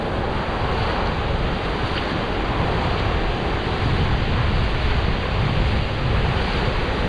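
Ocean waves break continuously on a Zanzibar shore, a loud, steady wash of surf mixed with gusty wind buffeting the microphone, with no voices.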